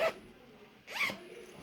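A small zippered wallet-like pouch, found inside a newly bought travel item, is zipped in two quick, close strokes, with a short pause between them and quiet room tone around.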